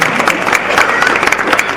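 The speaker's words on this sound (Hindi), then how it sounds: "जोरदार ताली।" Audience at an Indian public event bursts into loud, sustained applause, a dense wash of clapping from a crowd filling the room.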